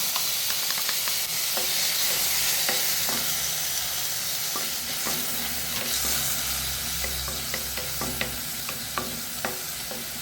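Chopped tomato frying in ghee gives a steady close sizzle and hiss, with frequent scraping clicks of a spoon stirring the pan.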